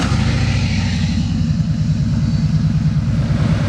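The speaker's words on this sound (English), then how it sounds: "go ahead and start this bike up" A Harley-Davidson motorcycle engine idles steadily up close in a workshop during a diagnostics test, a loud, even, low rumbling pulse that carries on alone with no voices.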